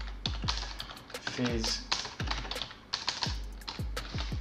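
Someone types C# code on a computer keyboard in quick, irregular bursts of crisp clicking keystrokes, close by, while a voice briefly speaks over them.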